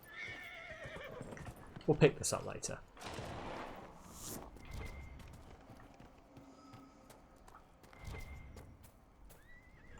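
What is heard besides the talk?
horse neighing in video game Dragon Age Inquisition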